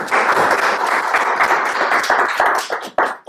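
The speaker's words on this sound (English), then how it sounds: "here's a great round of applause for our partner" An audience at a tech meetup in a hosted venue claps for the event hosts, a dense round of applause that holds steady and then thins out into a few final claps.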